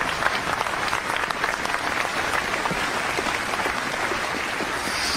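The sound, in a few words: round of applause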